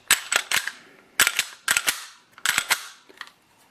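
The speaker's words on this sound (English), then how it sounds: "it is noisier to charge a round" Metallic clacks of a semi-automatic pistol slide being racked to chamber a round, in three quick double-clack bursts with short pauses between, close and crisp.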